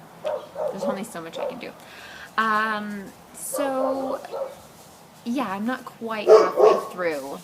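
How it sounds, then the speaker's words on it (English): Indoor dogs bark and whimper in short yips and whines, mixed in with a person talking continuously close by. "I'm sorry about the dogs."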